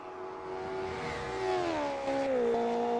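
Race car at the historic Le Mans race on its final lap, engine pulling hard and rising steadily in pitch as it accelerates, loud and continuous with no talk.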